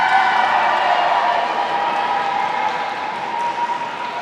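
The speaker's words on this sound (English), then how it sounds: "I do love how loud the crowd is every single time for Abigail." A crowd at an indoor sword-fighting tournament arena in Manchester, a dense, steady roar of cheering and applause that stays loud throughout and eases slightly toward the end.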